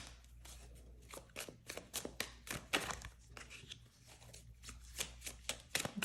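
Tarot cards are shuffled close up in soft, uneven riffles and taps, a steady run of papery flutters with quiet gaps.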